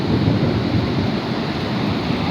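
Ocean surf at Parangtritis beach, a loud, steady wash of breaking waves with rumbling low churn and some wind buffeting on the microphone, continuous for the whole stretch with no talk.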